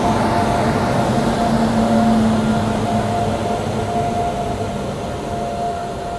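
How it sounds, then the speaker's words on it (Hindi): A train hauled by a WG9 locomotive rolls past in heavy rain in West Bengal, a loud continuous rumble of wheels and wagons with a faint steady whine, fading slightly toward the end. "फिलहाल अभी ये कोई ट्रेन आ रही है WG9 के साथ"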